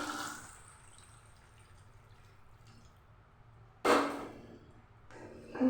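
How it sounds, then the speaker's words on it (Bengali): Water is poured into a pan of braising desi chicken curry with eggs: a quiet bubbling simmer, then a sudden loud splashing pour, and a second pour starting near the end. "এবার দিয়ে দেবো পরিমাণ মতো জল"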